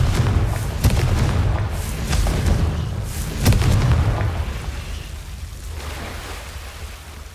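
Confringo blasting spell explosion in the Hogwarts Legacy video game: several deep booming blasts and thuds over a loud, rumbling roar that slowly fades, with no talking.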